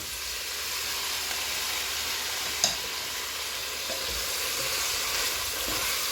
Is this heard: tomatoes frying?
yes